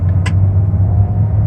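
Steady low engine rumble of an automatic car shifted with paddle shifters, loud and close, holding a constant note with a brief higher whine early on as the gear changes; no talking.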